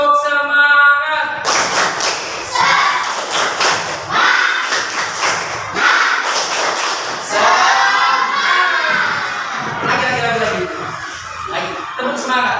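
Schoolchildren in a classroom clap the rhythmic tepuk semangat pattern loudly together, sharp patterned claps mixed with group chanting and a teacher's voice.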